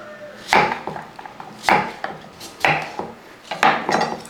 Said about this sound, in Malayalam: ഞാനിപ്പോൾ ഈ ഒരു രീതിക്കൊന്ന് അരിഞ്ഞെന്ന് മാത്രമേ ഉള്ളൂ